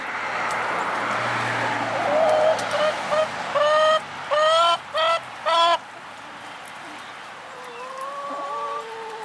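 Backyard hens in a winter coop full of compost let out a run of loud, close squawks and clucks in a burst of several calls, then softer clucking over a steady background hiss.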